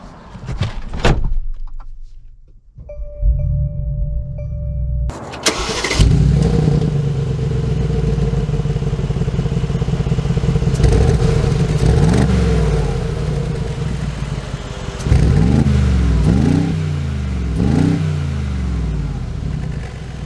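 A 2022 Mercedes G63 G Wagon with a door clunk shut, then the engine starting and settling into a steady drone, followed by several rising revs as it pulls away, close and loud.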